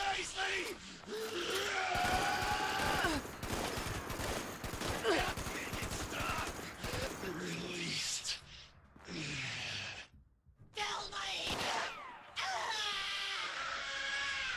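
Gunfire in the Fallout 76 video game, a dense stretch of rapid shots and bursts through the first half, with a player talking over it and the game's music and effects layered throughout.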